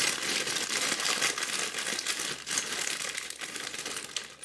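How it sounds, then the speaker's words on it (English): Close, continuous crinkling and rustling of the plastic bag around a GPS module being handled, busy and fairly loud throughout. "I'm just getting a GPS module out of its plastic bag"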